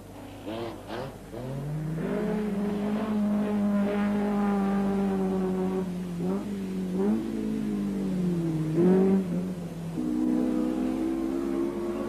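A Renault 21 rally car at the 1981 Boucles de Spa revs hard, its engine climbing and holding high through gear changes, loud and close, with no talk over it.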